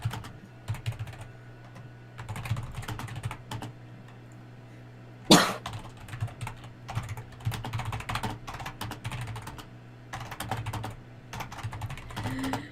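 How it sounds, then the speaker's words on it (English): Typing on a computer keyboard comes in bursts of quick, close clicking with short pauses, broken partway through by a single loud cough. "I can't say it on stream, so I'm gonna type it."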